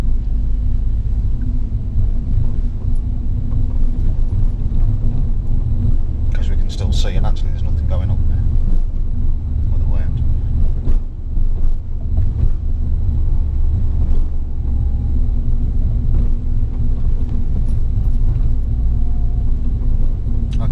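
A car engine rumbles steadily under a driving instructor's continuous talk during a UK driving lesson, with low road noise and occasional brief knocks throughout.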